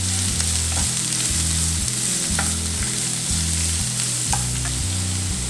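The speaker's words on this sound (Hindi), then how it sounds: "अब डालूंगा मैं इसमें जीरा, ठीक है. जीरा डालने के बाद इसमें जाएगा हमारा फाइन चॉप अनियन." Cumin seeds and finely chopped onion frying in a pan for a desi egg curry, a loud, continuous close sizzle with faint stirring scrapes, no talk.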